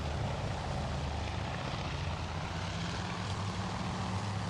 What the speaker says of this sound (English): So this is going to be a lot of aircraft coming in here. 12 aircraft all coming in.